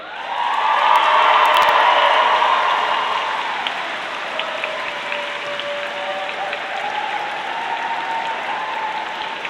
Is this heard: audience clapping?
yes